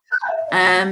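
Domestic dogs give a short yelp, then a sustained bark-like whine, close and loud, lasting about a second.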